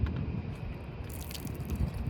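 Water pours and gurgles into a plastic bottle rocket in a continuous low splashing stream, close up and fairly quiet, with a brighter trickle starting partway through.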